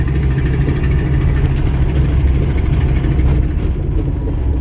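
A manual-transmission car's engine runs with a steady, close, rumbling drone and an even low throb during a downshift, with no clear rev change standing out.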